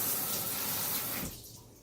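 Water pours steadily in a hissing stream for a second or so into a Psychopsis plant pot, then cuts off, close up.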